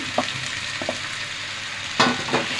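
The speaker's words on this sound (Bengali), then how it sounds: "আমি এটাকে একটু ভালো করে নাড়াচাড়া দিয়ে আবার একটু ভেজে নিব।" Malabar spinach fries in a pan with a soft, constant sizzle, broken by a few sharp spatula scrapes as it is stirred, the loudest near the end.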